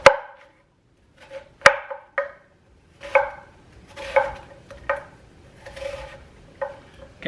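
Onions for a beef and ale stew are sliced with a knife on a board in a quiet kitchen: distinct, separate chopping knocks at an uneven pace, close and clear, with no talk.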